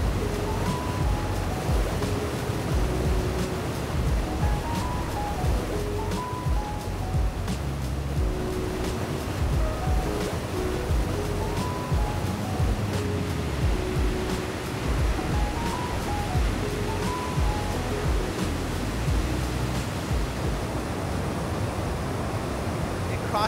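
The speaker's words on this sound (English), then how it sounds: "right behind me, we have the Bridal Veil Falls" Bridal Veil Falls at Niagara Falls gives off a constant, dense roar of falling water that holds steady throughout. A voice talks over it now and then.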